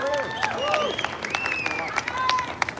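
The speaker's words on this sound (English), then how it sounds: "Big round of applause." Audience applause at the Kindig custom car show awards, 2023 Vailo Adelaide 500, with steady clapping and cheering from a crowd, whistles and bright tones scattered over it, loud and continuous throughout.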